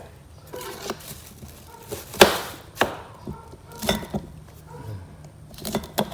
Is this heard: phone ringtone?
no